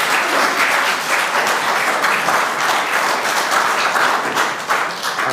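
Steady applause fills a commission meeting room, many hands clapping at an even, sustained level for several seconds without talk.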